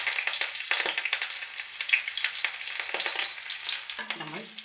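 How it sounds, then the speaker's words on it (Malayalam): Green chilies and garlic frying in hot oil crackle loudly and close up, with busy spattering pops and stirring scrapes, ending in a brief metallic ring. "അത്യാവശ്യം വേണ്ട എണ്ണ എണ്ണ ഒന്ന് ചൂടാവട്ടെ പച്ചമുളക് ഇടത്തുള്ളി ഇടുന്നു"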